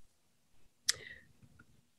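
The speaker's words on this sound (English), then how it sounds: "I was just typing something" A single sharp keystroke clicks on a computer keyboard, followed by a few fainter taps in an otherwise quiet room.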